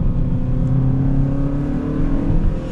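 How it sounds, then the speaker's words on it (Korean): Engine of a Hyundai Sonata N Line held in second gear on a low-grip surface, a loud, steady throaty drone with rising harmonic tones as revs climb, heard close and alone. "지금 이 엔진 소리는 거의 그냥 생 엔진 소리라고 생각을 하시면 됩니다"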